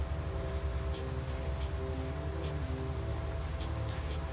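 Rain in the farming video game Irgendwo in Thüringen, a steady, dense hiss of falling rain layered over a low constant engine-like drone, continuous and even throughout with no talking.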